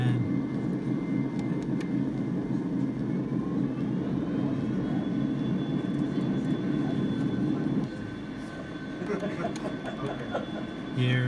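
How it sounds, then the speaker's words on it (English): Airplane engine during a touch and go in a flight simulator game, a continuous steady drone with a slight shift in pitch partway through, with people talking over it. "That was a touch and go."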